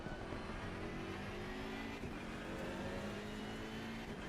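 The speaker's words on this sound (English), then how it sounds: "The evil Nissan GTR is coming." A Nissan GT-R race car approaches in a GT3 sim race at Paul Ricard. A distant, faint, steady engine drone holds throughout, with no speech.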